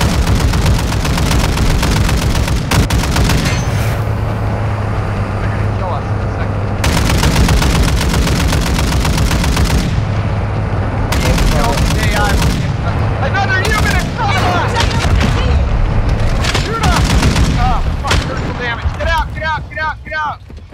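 Sustained gunfire in a shootout at a mall in the military video game MRAP, with bursts of shots and booming reports over a dense, loud battle roar lasting throughout.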